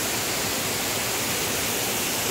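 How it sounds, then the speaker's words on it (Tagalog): Aw-Asen Falls in Sigay, Ilocos Sur, pours with a steady broadband rush of falling water, an even, unbroken roar with no voices over it. "May isa pang falls."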